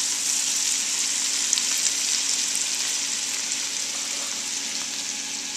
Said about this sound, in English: now you can see the onions and the shallots are cooking